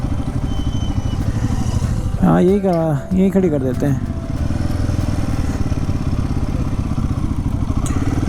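A motorcycle idles with a steady putter while being parked on a Himalayan road near Gangotri, and someone speaks briefly over the running engine partway through.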